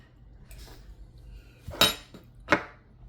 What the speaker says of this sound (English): So I'm just occasionally stirring this because I don't want it to scald at the bottom.